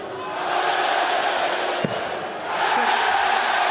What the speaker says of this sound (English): The crowd started to boo